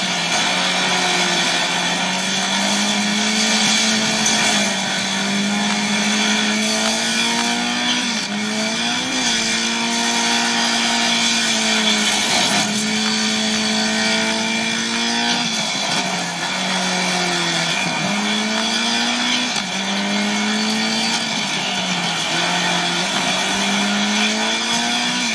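Rally car racing through a forest stage in China in Dirt 5, its engine droning steadily and loudly with repeated rises and drops in pitch as it revs through gear changes, continuous and close with no talk.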